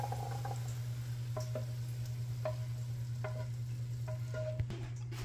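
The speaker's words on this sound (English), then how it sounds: "she's just draining all the oil and re-cooking it with all the beef" Ground beef cooking in oil in a pan for shepherd's pie, a steady low sizzle with intermittent stirring scrapes and light taps throughout, close and alone with no voices.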